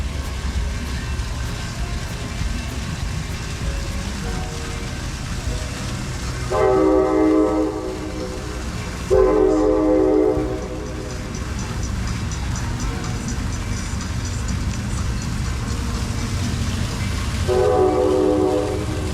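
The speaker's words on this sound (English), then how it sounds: "And of course the train." An Amtrak train rumbles past at Jack London Square, Oakland, with a steady low roar, sounding its horn in several long blasts that stand out loudly over the continuous rail noise.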